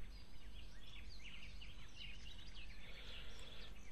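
Birds chirping as ambient sound in the video game GTA San Andreas, quick faint high calls repeating over a steady background hiss.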